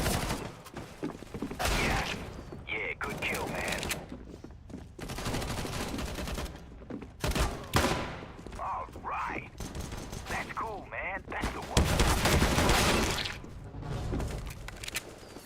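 Bursts of gunfire in a Counter-Strike: Global Offensive match, repeated rapid shots and volleys of varying loudness in irregular clusters, with game effects mixed in.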